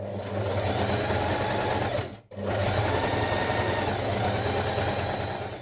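A sewing machine runs steadily while stitching together the lining pieces of a spring wrap dress, a loud continuous motor whir close by, cut by one brief pause midway before the stitching resumes.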